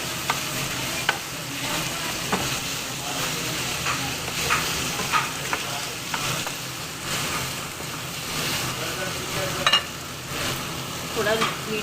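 Chicken liver with chaat masala and roasted cumin sizzles and fries on a tawa over medium-low flame, a steady crackling hiss with occasional stirring scrapes.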